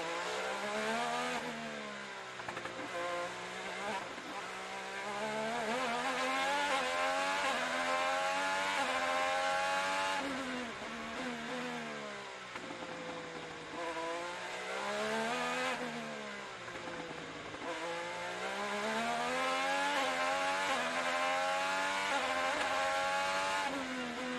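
IndyCar race cars run at Detroit Grand Prix practice, their high engine whine rising and falling through several passes and gear changes as they pull away, loud and continuous.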